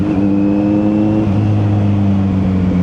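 Heavy road traffic in Fairview, a steady loud drone of car engines with a rising rev near the midpoint, continuous and close, no voices.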